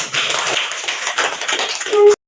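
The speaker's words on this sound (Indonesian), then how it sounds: "Tepuk tangan" Students in a classroom give a short burst of applause after a group presentation, a busy mass of claps that runs briefly and then cuts off abruptly.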